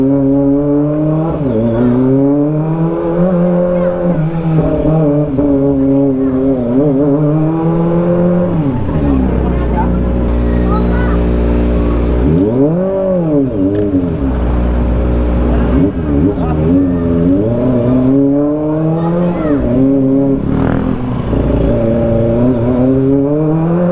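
A 2023 Kawasaki ZX25R SE motorcycle fitted with a new aftermarket exhaust revs loudly and close up in repeated rising and falling sweeps, the high-pitched engine swelling and dropping over nearly half a minute with a few brief remarks from a voice.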